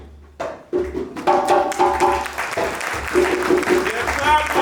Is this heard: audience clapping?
yes